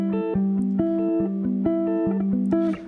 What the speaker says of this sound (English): I did some arpeggios using my Gretsch